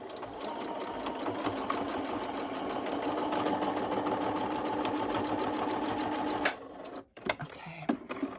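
A sewing machine runs steadily, stitching fabric back and forth onto a metal belt buckle with a fast mechanical chatter, then stops and gives a few short bursts near the end.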